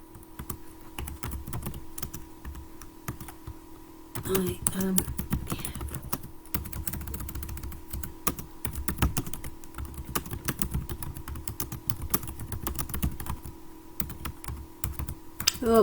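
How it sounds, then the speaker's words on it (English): Fast, irregular clicking of keys on a computer keyboard, close and fairly loud, with a brief pause near the start and a faint low hum underneath. "Oh, I can't type quickly."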